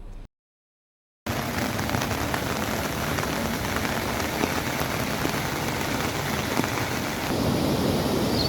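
Steady rain falls hard over a district during a heavy downpour, a dense continuous hiss of drops on surfaces. It starts after a short silence and then holds loud and even for the rest of the clip.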